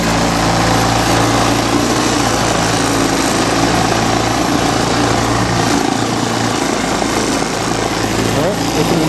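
A four-wheeler ATV engine drones steadily and loudly throughout, a constant mechanical hum with a low rumble as it rides, with no talk over it.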